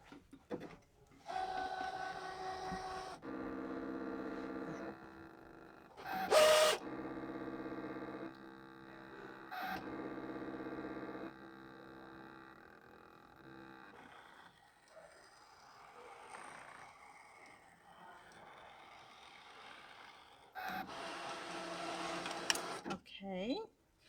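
Brother ScanNCut machine cutting minky fabric, a whirring motor hum with stepping mechanical tones and clicks that stop and start, fairly quiet and close.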